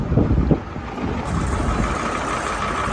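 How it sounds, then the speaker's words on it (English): Gusty wind in an open field buffets the microphone with low rumbling blasts, strongest at first, then settling into a steady roar. "Takeaway number 2, it's windy."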